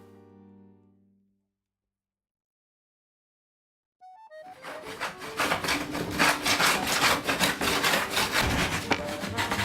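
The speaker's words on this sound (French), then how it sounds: "On passe alors aux étapes de ponçage et rabotage" Pallet wood Christmas tree branches being sanded and planed: after a short faint tone and a few seconds of silence, a loud, busy abrasive rasping starts and continues close up.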